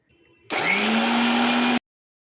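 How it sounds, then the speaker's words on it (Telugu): A mixer grinder grinding neem leaves with a little water whirs into a loud, steady grinding drone for just over a second, then cuts off abruptly. "దీన్ని ఇప్పుడు మనం గ్రైండ్ చేసుకుందాం."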